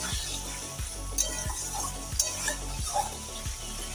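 Potol posto, pointed gourd with poppy seed, stirred in a sizzling pan, a spoon scraping the bottom in a steady rhythm of about one stroke every half second over continuous frying hiss, with occasional sharper clinks.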